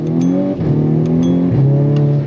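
A VW Golf R Mk6 hot hatch with an all-wheel-drive four-cylinder engine pulls hard in second gear around 4,000 RPM. A loud, close, rising engine note is broken by two quick shift dips before climbing again.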